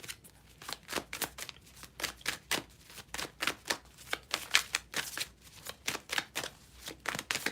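Tarot cards are shuffled in quick, regular riffling bursts, close and fairly quiet, repeating about twice a second with no voices.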